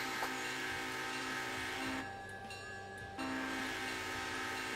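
Heavy freight train in the Railroader simulation game: a steady, low rumble of rolling stock, faint and continuous, with a brief tonal horn-like passage in the middle and no voices.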